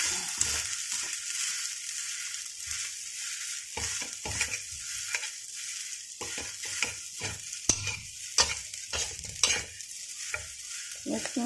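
Leftover fried rice with salted fish stirred in a pan, a steady hiss of frying under repeated scraping and tapping of a spatula against the metal, continuous and close.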